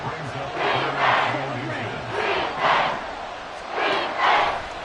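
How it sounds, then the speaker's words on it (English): A loud football stadium crowd roaring in swelling waves to force a false start, with a commentator talking over the rising and falling noise. "This crowd trying to force a false start here."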